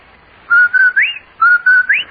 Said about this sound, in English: That whistle. That's the Rinso White whistle.